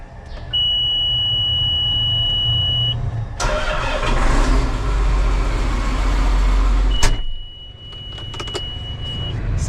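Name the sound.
Bearcat vehicle beeping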